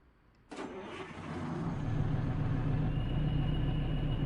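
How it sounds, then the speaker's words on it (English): A Peterbilt truck in American Truck Simulator cranks briefly and fires up, then settles into a building, steady idle rumble with a faint turbo whine rising above it, close and alone. "Well, I heard a turbo"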